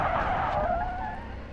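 Tires squeal loudly and continuously as a car drifts sideways in the BeamNG.drive driving game, a sustained screech that wavers in pitch over a steady engine rumble, with no talking.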